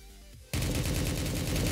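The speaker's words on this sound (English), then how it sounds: "that's a big gun that's shooting at another big gun" Heavy in-game guns blasting at each other in the shooter Project Delta, a sudden loud sustained barrage that starts after half a second of quieter ambience and keeps rumbling densely to the end.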